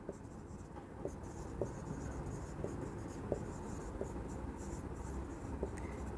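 A pen writes an accounting entry on paper, nearby and fairly quiet, with soft continuous scratching punctuated by light, regular taps as strokes begin.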